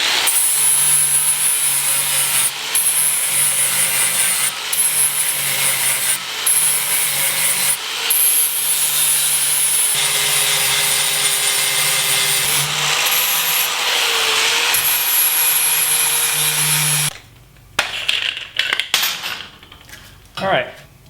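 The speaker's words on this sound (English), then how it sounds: "now I'm going to finish cleaning up my welds" Angle grinder fitted with a rounded grinding pad cleaning up welds on a steel Jeep rear storage shelf, a loud continuous abrasive whine broken by brief pauses, then sputtering and stopping near the end.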